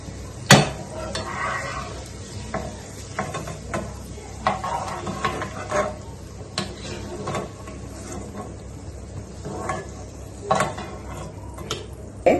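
Spinach curry for lasooni palak paneer being flipped and stirred in a pan, with irregular metallic clatters and scrapes of a spatula against the pan over a soft background sizzle, close up and without talking.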